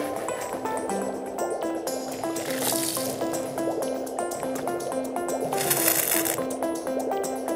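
A toy pastry swished and rinsed in pool water, giving steady sloshing, gurgling and splashing with soft drips, close and fairly loud throughout with a light melodic background tune underneath.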